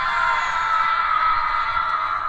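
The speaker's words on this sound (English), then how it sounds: "her scream split the night. A piercing, unearthly wail that seemed to come from everywhere at once." A woman's piercing, unearthly wailing scream, from the weeping-woman legend of La Llorona, stretches on unbroken and harsh, filling the night air as if from everywhere at once.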